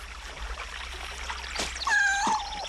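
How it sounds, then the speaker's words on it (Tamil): A short cat meow rises near the end, preceded by soft trickling water and faint rustling. "ஓ, பூனை."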